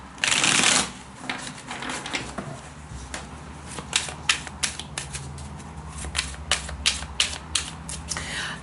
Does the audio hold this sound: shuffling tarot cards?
yes